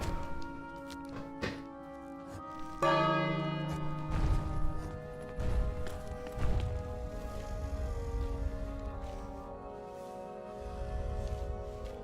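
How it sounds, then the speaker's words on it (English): In the King's Quest video game, a bell is struck once, giving a loud, resonant clang whose tone rings and slowly fades, followed by a few dull knocks and rumbles. "Ring the bell again."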